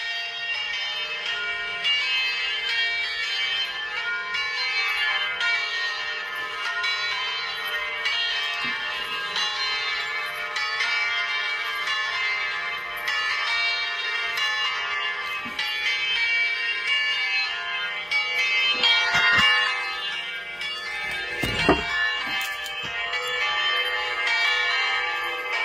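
A church bell rings steadily at a moderate distance, its sustained ringing tone carried over continuous ambient sound with a louder burst near the end.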